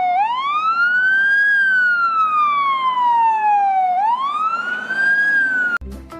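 A toy fire truck's loud electronic siren wails, rising and falling in long sweeps, then cuts off abruptly near the end with a brief clatter.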